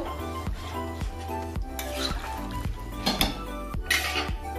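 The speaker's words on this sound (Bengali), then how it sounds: "এখন আমি জল দিয়ে দিচ্ছি। এখন ভালো করে জলের সঙ্গে মিশিয়ে নেব।" A utensil scrapes and knocks rhythmically against a pot while mutton curry with papaya and potato is stirred after water is added, with clinks and a soft simmering sizzle underneath and no talking.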